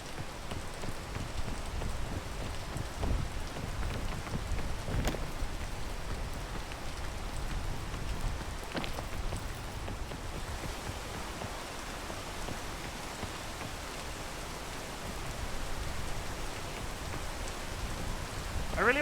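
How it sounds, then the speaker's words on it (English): Steady rain pours in the mountain-climbing video game PEAK, a dense, constant patter that fills the whole stretch with little change in loudness. "I really wish it would stop raining so I could frickin' see where I'm going."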